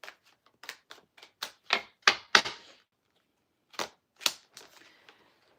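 Tarot cards shuffled by hand in quick sharp bursts, a run of crisp snapping riffles and taps, then a short pause before a few more, close and dry with no talk.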